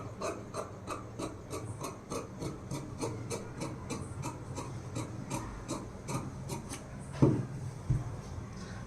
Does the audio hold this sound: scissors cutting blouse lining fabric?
yes